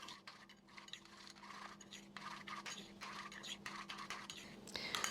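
Potatoes and melting ghee stirred in a hot roasting pan, soft scraping and light clinks of a utensil against metal, quiet and close, with faint sizzling underneath.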